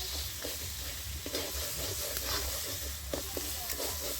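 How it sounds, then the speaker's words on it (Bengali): Spice masala paste for a mixed vegetable curry sautéing in a pan, a steady close sizzle broken by repeated scraping stirs from a spoon, moderately quiet and with no talking. "এবার ভালো করে মশলাটা আমি কষিয়ে নেব"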